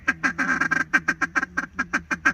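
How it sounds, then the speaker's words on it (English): Ducks quack over and over in a quick, uneven series of sharp nasal calls, close and clear, with no talking. "Oh, ducks,"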